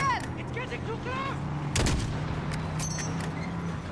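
Gunfire aimed at a truck in Call of Duty: Modern Warfare, a sharp loud burst near the two-second mark with scattered fainter shots after it, over a steady low hum of game sound.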